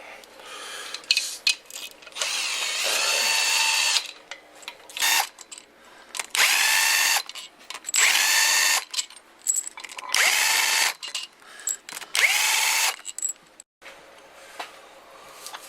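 A power tool whirs in repeated bursts of a few seconds each as it removes the factory head studs from a sleeved Gen 3 Ford Coyote engine, with short pauses and metallic clinks between runs.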